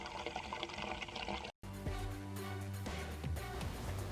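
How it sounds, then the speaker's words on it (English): Water pours steadily into a sailboat's water tanks, a continuous close rushing stream that cuts out briefly and then resumes with a fuller, resonant filling sound. "I am filling up our tanks with water."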